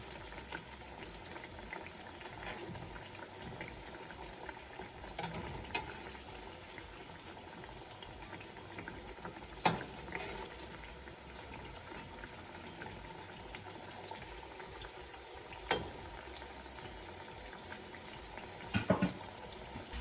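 Guyanese sweet bake dough rounds fry in oil, a faint low bubbling hiss running steadily throughout, with a few soft clicks and knocks of utensils at intervals.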